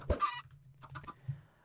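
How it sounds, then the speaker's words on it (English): Chickens in the video game Minecraft give a few short, soft clucks in quick succession, quiet and close with no voices. "This is probably way too many chickens."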